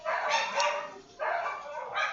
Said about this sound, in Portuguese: desculpa o barulho de cachorros latindo